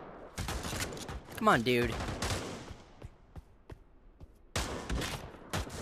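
Gunfire in the VR shooter Pavlov VR: a rapid burst of automatic shots, a sparse run of single cracks, then a second dense volley, loud and near, with a voice briefly talking over the firing.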